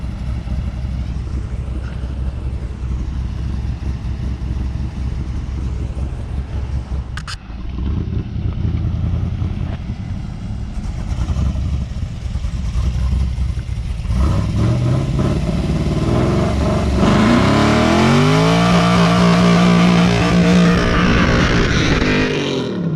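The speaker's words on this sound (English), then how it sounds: "Let's see how that burnout ends up." A car doing a burnout at a track-night prep session: a loud engine idles and rumbles, then revs hard and climbs in rising pitch sweeps as the tires spin, growing louder toward the end with no talk.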